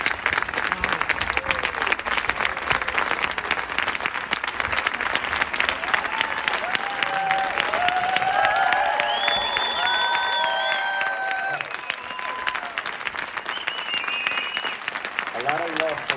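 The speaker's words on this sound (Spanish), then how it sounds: "Un fuerte aplauso para el doctor Nathan Lewis" An audience gives Dr Nathan Lewis a strong round of applause, dense sustained clapping filling the room, fading slightly toward the end while a voice speaks over it.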